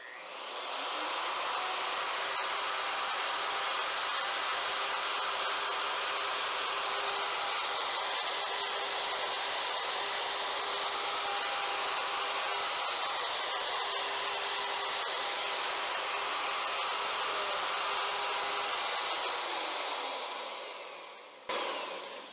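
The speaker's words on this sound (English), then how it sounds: "I'm going to run the router all the way across the workpiece" Router cutting a center line across a wooden workpiece on a mortise jig, a loud high-pitched whining roar held steady for about twenty seconds, close by, then winding down at the end.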